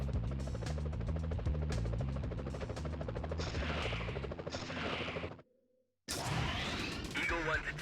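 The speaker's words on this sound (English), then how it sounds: "Whoa, police choppers." Police helicopters in the PS1 Spider-Man game give off a steady rhythmic rotor chop with a buzzing hum, loud and continuous for several seconds before a short drop-out, with a voice speaking over it and game noises returning after the gap.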